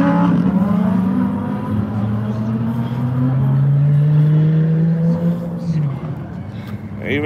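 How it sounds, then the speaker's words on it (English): A Lamborghini rolls past at a car show and cars-and-coffee toy drive, its engine a sustained loud drone that rises in pitch and then fades, with someone talking over it. "There's another Lamborghini."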